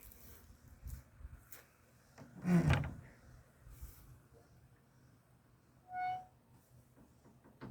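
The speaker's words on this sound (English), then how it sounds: "I wonder, can you open the door?" An old wooden outhouse door at a plantation is pulled open, with a brief creak and clunk followed later by a short squeak, amid quiet outdoor ambience.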